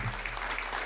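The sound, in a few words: audience clapping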